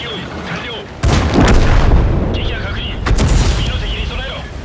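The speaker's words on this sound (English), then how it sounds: "I like fire a bunch of shots and I mean, admittedly, I'm on the move" Type 4 Chi-To tank cannon in World of Tanks fires two loud, booming shots about two seconds apart, each one rolling off into a long rumble over the engine noise and game background.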